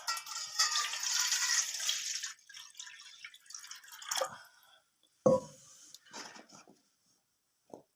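Water pours and splashes into a bowl for washing carrots in a home kitchen, a rushing stream early on, then scattered drips and splashes with pauses.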